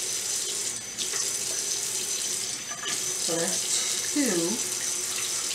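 Water is poured from a 2-cup measuring cup while making watermelon and cucumber infused water, a steady close trickle and splash with a voice speaking briefly.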